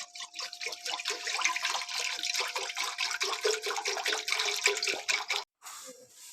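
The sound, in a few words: pouring 1 litre of water into a pan on the stove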